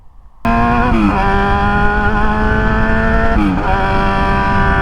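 A Triumph Tiger motorcycle with ABS brakes pulling away, its engine note climbing through gears with a brief dip at a shift and a steady loud drone, heard close with strong wind rumble.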